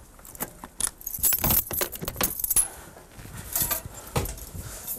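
A bunch of keys jangles and clinks for several seconds, close and fairly loud, while being used to unlock a locomotive before a train run.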